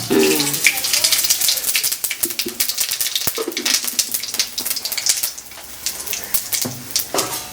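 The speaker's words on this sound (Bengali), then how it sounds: "জিরে তেজপাতা দিয়ে সম্বরা দেব" Cumin seeds and bay leaves sizzle in hot oil as a tempering for a brinjal curry with small rohu fish, giving a dense, close, crackling hiss that runs steadily throughout.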